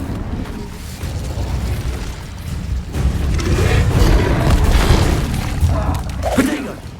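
Fiery blasts and bursts from spellcasting in Hogwarts Legacy, a dense run of booming, crackling impacts that swell toward the middle and end with a sharp burst, loud and close.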